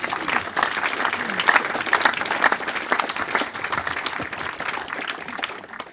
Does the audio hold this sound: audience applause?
yes